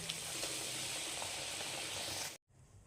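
Rolled dough balls dropped one by one into hot oil on medium gas, giving a steady bubbling sizzle that cuts off abruptly near the end.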